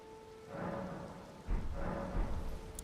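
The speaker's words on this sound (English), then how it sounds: "Oh, now it's raining." Rain and thunder roll outdoors, two low rumbling swells over a soft wash of rainfall, fairly faint and distant, with no voices.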